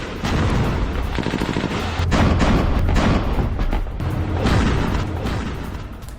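Israeli bombardment in Gaza: a dense run of loud explosive booms and sharp blasts that sounds like gunfire and artillery, nearby and sustained, with swelling rumbles and no voices.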